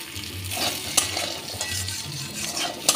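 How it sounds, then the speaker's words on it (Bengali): Mixed vegetables fry with a little salt in hot oil after a chili and nigella tempering, giving a continuous close sizzle with scraping stirs and occasional utensil clinks against the pan. "এই সবজিটা অল্প একটু ভেজে নেব"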